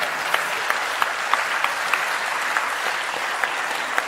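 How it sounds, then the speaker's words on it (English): Steady applause from a large audience at a live outdoor talk event in Turkey, a dense continuous patter of many hands clapping with a few sharper claps standing out, loud and unbroken, with no speech. "They're also clapping."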